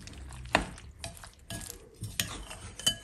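Three whole eggs are stirred into a mixture in a bowl, with a utensil scraping and clinking against the sides in three sharp taps among softer swishing strokes, close up and without voices.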